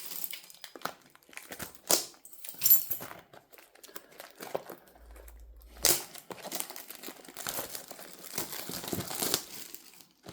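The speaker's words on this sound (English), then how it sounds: "I'll open the second display immediately" Plastic wrap crinkling and tearing as a Yu-Gi-Oh Justice Hunters display box is opened up close, with scattered crackles and a few sharper rips over about ten seconds.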